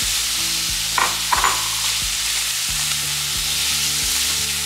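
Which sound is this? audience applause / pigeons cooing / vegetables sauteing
vegetables sauteing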